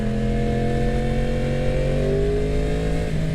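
A 2026 Kawasaki Ninja H2 Carbon with an inline-four engine revs close by in a loud, steady, smooth howl that climbs gently in pitch over a few seconds, with no one talking.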